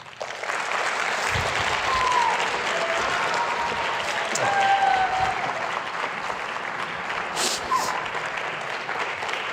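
A conference audience at an Asian Heritage Month event applauds after a speech, with steady, moderately loud clapping that swells slightly midway and holds for several seconds.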